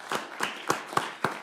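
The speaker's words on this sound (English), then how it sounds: "Thank you for the applause" Five evenly spaced hand claps ring out at a city council meeting, crisp and fairly close, with no talking over them.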